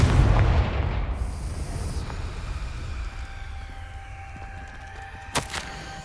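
A Confringo fire spell blasts in Hogwarts Legacy, a heavy booming explosion with a low rumble that decays slowly, followed by a faint sharp crack later on.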